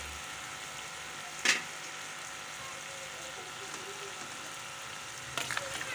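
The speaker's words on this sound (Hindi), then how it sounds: "भुनाई करती हूँ इसकी।" Tomato paste being fried in a pan for a chicken feet curry gives a steady, quiet sizzle throughout, with two brief sharp clatters of stirring near the start and end.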